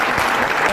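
Dense applause from an audience at a stage event, a continuous even patter of many hands close by, with faint voices blended underneath.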